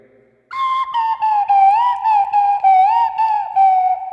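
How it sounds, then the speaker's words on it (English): A slide whistle plays a pop melody from a song, loud and close, with gliding pitch bends and short breaks between phrases, after a brief quiet start. "do slide whistle covers for the next hour"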